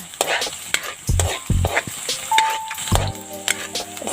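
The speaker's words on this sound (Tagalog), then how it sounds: "Igisa na natin yung ating sibuyas. Ating bawang. Yung ating luya." Onion, garlic and ginger sauté in a hot pan with a soft steady sizzle, broken by a few stirring scrapes and clinks close by, while a faint tone rings in the background.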